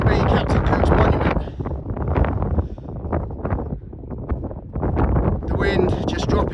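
Strong wind buffets the microphone on an open ridge, roaring in gusts that ease for a moment in the middle before rising again, with a voice speaking over it.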